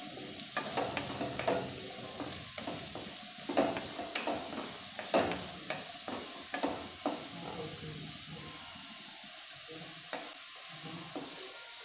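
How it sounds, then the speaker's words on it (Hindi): Finely chopped potatoes fry in hot oil for poha, giving a continuous bright sizzle broken by sharp crackles and spatter pops, heard close with no talking. "तेल गर्म हो चुका हुआ है, इसमें अब आलू डाल देंगे। बारीक कटा हुआ आलू डाल देंगे। इसे हल्का सा फ्राई कर लेंगे।"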